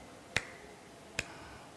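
Two sharp, crisp finger snaps about a second apart, close and isolated against a quiet background.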